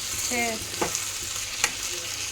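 Food sizzles steadily in a hot pan while a chutney is prepared, with a continuous broadband hiss throughout, a few brief harmonic squeaks and scraping clicks of stirring, no talk.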